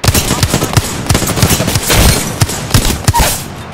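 Rapid, loud gunfire in the video game Apex Legends rattles on almost without a break, repeated close shots in a fast rhythm that fills the whole stretch.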